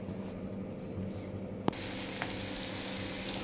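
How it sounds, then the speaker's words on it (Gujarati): Mustard seeds, cumin, asafoetida, chopped onion and garlic go into hot oil in a pan, and after a quiet start a sudden knock gives way to a loud, steady sizzle that fills the rest of the clip. "તેલ આવી ગયું છે તો એમાં રાઈ, જીરું અને હિંગ નાખી, અને ડુંગળી લસણનો સુધારેલા હતા એ આપણે એમાં નાખ્યા છે"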